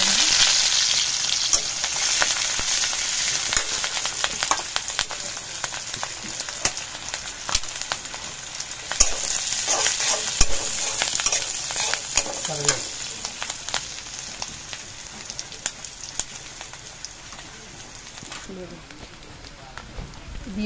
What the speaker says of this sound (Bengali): ফুল রান্নার এর জন্য দিয়ে দিলাম তেল, আর দিলাম রসুন কুচি, দিয়ে দেবো কাঁচামরিচ, ভালো করে ভেজে নেব।